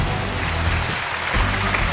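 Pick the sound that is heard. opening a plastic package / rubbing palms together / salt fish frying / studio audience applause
studio audience applause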